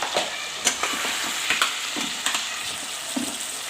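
Keema cooked with whole spices and yogurt sizzles in a pan, a soft, continuous frying hiss broken by occasional scrapes and clinks as it is stirred.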